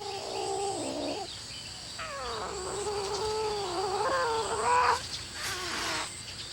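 Male and female domestic cats yowl and caterwaul back and forth during courtship, long wavering calls following one another closely, with no talk.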